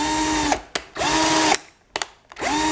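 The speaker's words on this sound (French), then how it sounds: "je suis en train de percer derrière la caméra" An electric drill bores a hole out of sight close by, running in three loud whirring bursts, each winding up in pitch, with short clicks and pauses between them.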